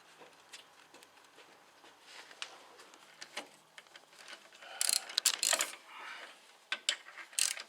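A ratchet tightening the new lock nut on the lower ball joint of a VW Passat 35i: quiet rapid clicking pawl strokes with metallic rattles, growing louder in bursts toward the end.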